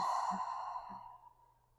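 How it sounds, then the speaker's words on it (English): A single slow, soft exhale through the mouth during a yoga practice, a quiet breathy sigh fading out over a couple of seconds. "let's breathe in through the nostrils and exhale out through the mouth"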